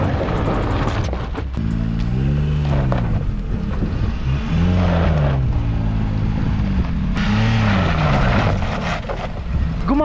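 A car engine strains and revs hard as the vehicle climbs a steep rocky mountain slope in Ladakh, loud and close, with pitch rising and falling in repeated surges and no talk over it.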